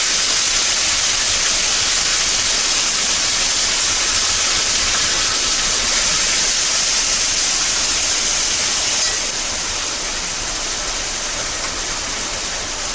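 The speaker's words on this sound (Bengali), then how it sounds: "তেল গরম হয়ে গেছে, দিয়ে দেবো আদা বাটা, দিয়ে দেবো লঙ্কা বাটা" Ginger paste and green chili paste fry in hot oil, giving a loud, dense, continuous sizzle and hiss close by that holds steady and then eases slightly toward the end.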